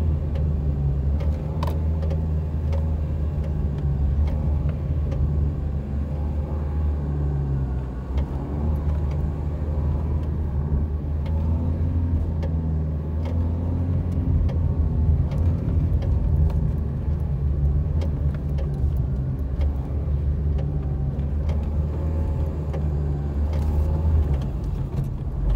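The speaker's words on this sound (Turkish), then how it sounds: "Motor kulağı kopunca gelen sesi." A Peugeot 301 engine with a broken engine mount idles with a steady low rumble and an uneven, knocking vibration running underneath, continuing for the whole stretch.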